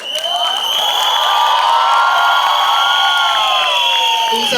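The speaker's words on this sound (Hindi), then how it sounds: "तुम क्यों चिल्ला रहे हो?" A loud, dense crowd of fans, many of them children, shouts and cheers continuously at a film promotion event, a sustained roar of high voices close to the microphone with no break in the noise.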